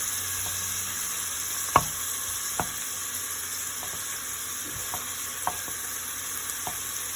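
Onions and garlic sizzling steadily in a pan, a continuous hiss broken by a few sharp utensil clicks and taps.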